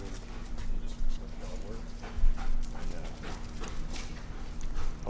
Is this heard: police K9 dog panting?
yes